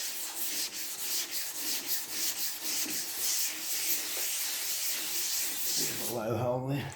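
Wet rubbing of primer filler on a VW Beetle trailer body: a steady, close scrubbing and hissing rasp that continues throughout, ending with a brief watery swish and a low hum.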